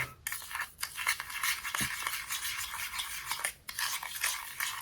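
A lemon mixture is stirred and mixed in a vessel, giving soft, continuous scraping and swishing with light clinks of the spoon against the container, at close range and fairly quiet.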